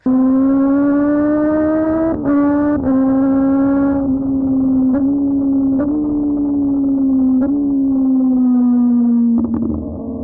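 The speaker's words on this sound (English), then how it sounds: "I was just going through the gearbox and coming back down just to hear the bike sing" Kawasaki ZX-10R superbike engine held at a loud, steady high-rev wail, pitch stepping through gears with brief quick-shifter cuts, then easing down near the end; no talking.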